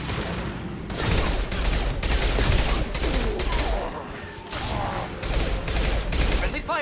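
Sustained volleys of weapon fire rattle through a firefight in Mass Effect 2, loud and close in several long bursts separated by brief lulls, with voices faintly mixed into the combat noise.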